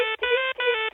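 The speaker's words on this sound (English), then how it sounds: "I forgot to turn my phone off when I was playing with my new ringtone" A bright electronic ringtone plays in three repeating bursts with short gaps, loud and close, no voices.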